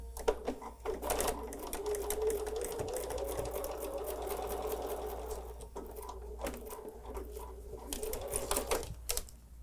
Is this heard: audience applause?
no